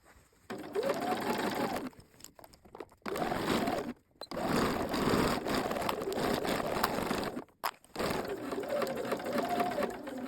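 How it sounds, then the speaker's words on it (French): A sewing machine stitches a trouser waistband in long, steady whirring runs broken by short pauses, close and clear, with no talk. "vous allez coudre votre ceinture à 1 cm du bord"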